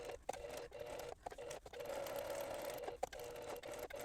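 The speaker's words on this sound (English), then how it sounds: "And I'm going to sew a little less than 1/4 of an inch." A sewing machine stitching a small fabric hand warmer insert, a steady close mechanical whirr with a quick rhythmic needle patter, briefly pausing a few times before running on.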